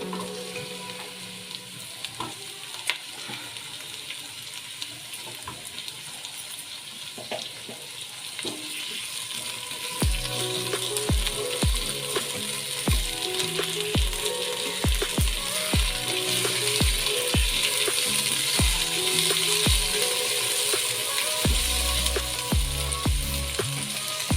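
Onion and tomato fry slowly in a pan for a moong dal dish, a soft sizzle at first turning louder midway as a spoon scrapes and stirs in regular knocking strokes.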